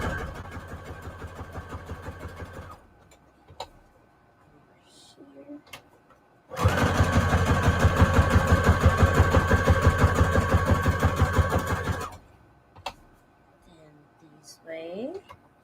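A sewing machine stitches an index card pocket shut for a junk journal, buzzing in two bursts, a shorter one then a longer, louder run, separated by quiet handling sounds.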